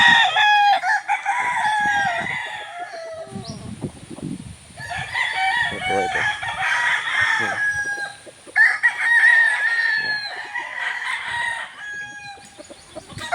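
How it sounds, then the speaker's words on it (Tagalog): Several fighting roosters crow repeatedly in bursts, with clucking and scattered farmyard noise between calls, fairly close and loud. "manok na pangsabong"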